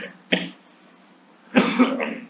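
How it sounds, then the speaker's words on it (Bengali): Two coughs, close and fairly loud: a short burst followed by a longer, rougher cough, with quiet room tone in between. "দুঃখিত একটু কাশি"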